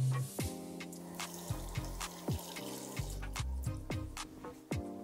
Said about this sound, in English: Then there's a group of people that wash their hands like this.